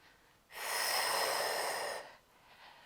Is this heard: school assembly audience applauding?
no